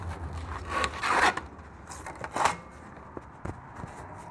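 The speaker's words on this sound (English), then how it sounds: "Trying to get this stupid sanding disc off." Scraping, rubbing and tugging noises come in short irregular bursts as a sanding disc is worked and peeled off a Craftsman 6x48 belt sander, with brief sharp clicks.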